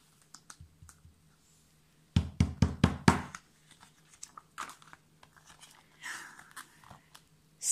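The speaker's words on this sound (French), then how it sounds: "on frappa à la porte" A series of about five sharp, hard knocks on a door lands in quick succession, followed by scattered fainter taps and clicks in an otherwise quiet room.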